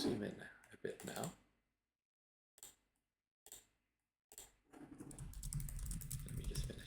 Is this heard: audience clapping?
no